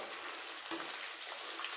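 Lemon rice seasoning fries in a pan, giving a soft, steady sizzling hiss that stays faint and even throughout, with one slightly brighter crackle partway through.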